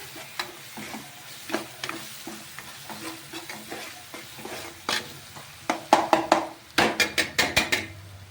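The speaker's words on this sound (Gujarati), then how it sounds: "હવે આ બધું મસ્ત ને મસ્ત પાછું આપણે મિક્સ કરશું" Dry cabbage Manchurian stir-fried in a pan: repeated scraping and clanking of a spatula against metal over a low sizzle, growing louder and faster toward the end with several sharp knocks.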